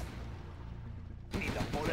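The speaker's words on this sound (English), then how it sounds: "Gun barrel spinning. Gatling tank ready for action." A Gatling tank in the strategy game C&C Generals Zero Hour opens fire with a sudden rapid rattling burst after a lower rumbling stretch, faint overall and mixed with a voice talking.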